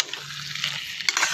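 A spoon stirs rajma kidney bean masala curry in a pan, giving a soft wet scraping and sizzle, close and fairly quiet, with a brief clink near the end.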